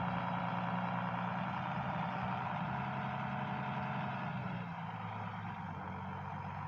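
International 886 tractor backing up with a hay baler, its engine holding a steady loud low drone throughout with no talk.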